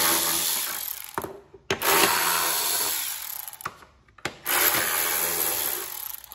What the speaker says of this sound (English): We'll take out these bolts.